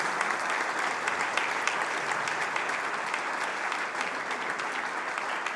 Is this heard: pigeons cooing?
no